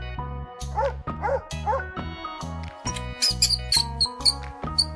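A dog gives a quick run of sharp, yappy barks, close and fairly loud, in an uneven rhythm, with high chirps toward the end.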